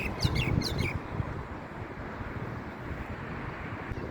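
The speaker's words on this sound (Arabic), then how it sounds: "طير المينا له عدة أصوات، عدة تلحين، عدة تغريدات." A myna bird gives a quick run of sharp, bright whistled calls at the start, then falls silent under steady wind buffeting the microphone outdoors.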